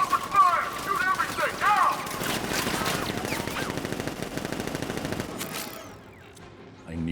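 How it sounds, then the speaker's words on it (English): Sustained automatic gunfire from militia in Batman: Arkham Knight, rapid loud bursts rattling continuously for about five seconds before cutting off, with game voices shouting over the barrage. "Open fire! Shoot everything! Now!"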